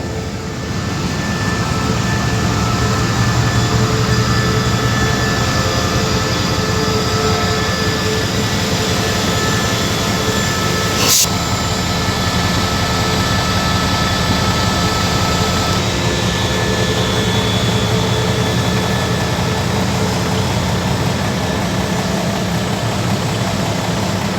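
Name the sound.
express train departing station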